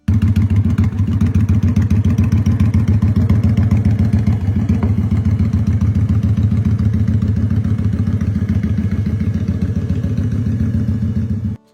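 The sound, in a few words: 2009 Kawasaki Vulcan 900 motorcycle engine with Vance and Hines exhaust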